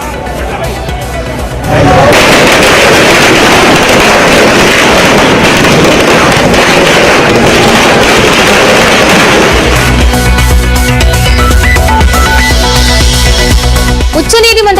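Firecrackers crackle in a dense, continuous barrage at an outdoor political party celebration at an office in Chennai. The noise is loud and unbroken, with crowd noise and wind buffeting mixed in throughout.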